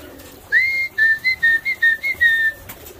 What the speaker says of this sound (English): I'll be able to use that little whistle to entice them to come on down